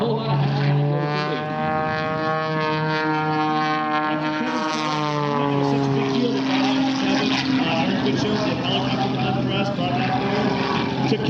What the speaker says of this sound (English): he works the power and works the propeller as well as he pulls back